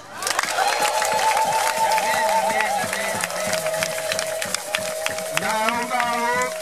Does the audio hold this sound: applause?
yes